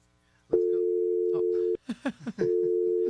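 A telephone line tone sounds loudly during a call-in, a steady electronic tone that cuts off while a person talks briefly and then resumes.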